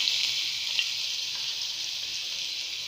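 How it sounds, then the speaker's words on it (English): Garlic frying in hot oil in a pan over a low-medium gas flame, a steady bright sizzle that holds evenly throughout, with a few faint clicks as it is stirred. "Okay, so we have already have the pan ready with oil on it. Once oil get heated, we will put our first ingredient, that is garlic."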